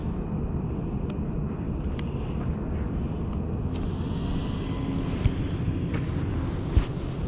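An Arrma Typhon RC car drives around a local park on its first run, its motor a steady, fairly loud whirring roar mixed with wind buffeting the microphone, with an occasional knock.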